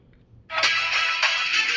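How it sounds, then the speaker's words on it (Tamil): A phone ringtone announcing an incoming call during a Roblox game session, a bright, loud electronic tone that switches on abruptly and holds steady with slight pulsing, heard alone without talk. "ஃபோன் வந்துட்டு"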